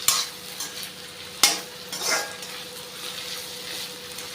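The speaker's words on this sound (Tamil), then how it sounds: "இந்த கலர் சேஞ்ச் ஆகிற வரைக்கும் நம்ம இதை வதக்கிக்கணும்" Pirandai, the adamant creeper, sautéing in a pan for thokku: a steady close sizzle with a few sharp scrapes and clatters of a spoon stirring against the pan.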